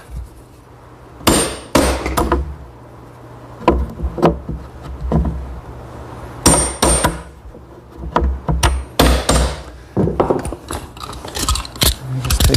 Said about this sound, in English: I have a little corner chisel, a special device that has a spring-loaded chisel to make the corners square